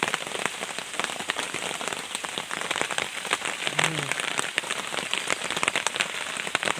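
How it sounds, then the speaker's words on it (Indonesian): Heavy rain pours steadily on a Sumatran forest during a windy solo camping trip, a dense, constant patter and hiss of drops striking leaves and surfaces close by, with no voices. "Masih hujan nih sobat"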